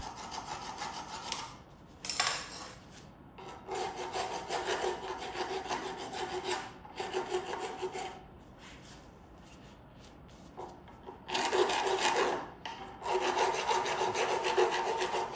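Hand file rasping over a restored Zündapp KS 750 motorcycle nut in a workshop, with steady back-and-forth strokes in several bursts separated by short pauses, close and fairly loud, with no talk.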